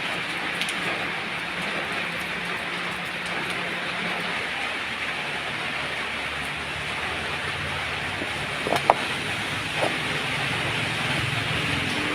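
Rain falling around a house, a steady broadband hiss of drops on surfaces lasting throughout, even and moderately loud, with a couple of brief knocks near the end.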